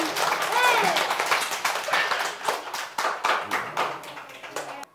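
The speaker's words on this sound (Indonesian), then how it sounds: "Tepuk tangan." Children in a classroom clap their hands together, a loud, dense burst of close clapping that thins out into scattered claps, with a young voice calling out briefly.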